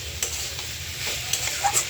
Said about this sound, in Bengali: তো আমার আলু কপি ভাজা হয়ে গেছে